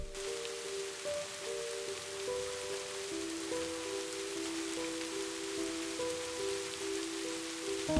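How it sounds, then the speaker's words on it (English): Soft rain falls outside a cabin as a steady, gentle hiss under a calm, slow melodic tune with sustained tones, with no voices. "A soft rain slowly began to fall."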